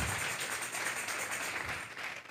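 A church congregation clapping together, a steady dense patter of many hands heard at a distance and fairly faint, continuing for the whole stretch.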